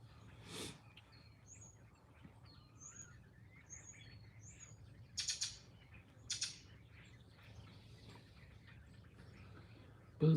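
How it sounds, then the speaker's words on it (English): Small birds chirping outdoors during a mild false-spring spell, a series of faint, high, evenly spaced tweets over quiet background hiss, with a couple of brief louder rustles. "Lots of birds today. We're having like a false spring."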